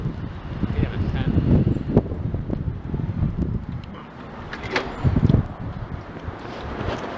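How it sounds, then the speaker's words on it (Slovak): Outdoors, gusty wind buffets the microphone with low, rumbling bursts that rise and fall irregularly, while someone speaks intermittently over the noise. "tam fúka vietor a neviem, či to bude počuť, čo hovorím"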